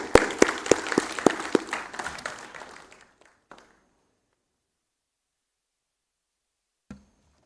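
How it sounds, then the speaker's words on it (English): An audience in a large Delhi auditorium claps to welcome a keynote speaker, the applause loud at first and then thinning over about three seconds into silence, with a faint knock later. "Please welcome him with a round of applause."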